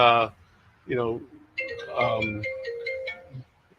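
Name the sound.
phone ringing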